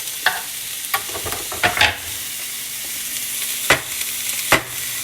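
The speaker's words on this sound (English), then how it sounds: "So now, all this is in the saute. You put it in and you cook it." Food sautés in a pan with a steady close sizzle, while a utensil stirs and scrapes now and then in sharp separate strokes.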